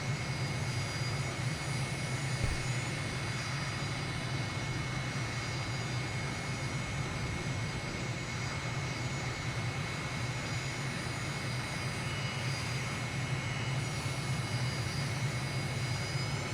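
Steady jet engine drone of an MB339 trainer jet in Microsoft Flight Simulator 2020, a constant loud idle whine and roar with no talking.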